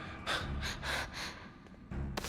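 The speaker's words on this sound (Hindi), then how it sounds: "मुझे सांसों की आवाज आ रही है।" Heavy, close breathing inside a dark tomb, several loud gasping inhales and exhales in an uneven rhythm, with faint rustling and a soft thud between breaths.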